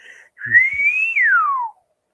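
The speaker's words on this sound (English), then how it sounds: "It's not something you normally hear. A slide whistle." A slide whistle plays one loud, close note that slides up and then swoops down, heard alone in a quiet, dark setting.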